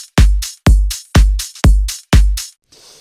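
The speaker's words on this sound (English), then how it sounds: "next we have this little loop thing from Vengeance" Drum loop from the Vengeance sample pack, five punchy kick-and-snare hits with bright, decaying tails in a steady rhythm, loud and close, with no talk over it.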